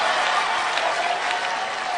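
Crowd noise at a high school basketball game between Bradley and Bishop Mac, a dense, broad wash of cheering and clapping from a packed gym, steady and moderately loud across the whole stretch.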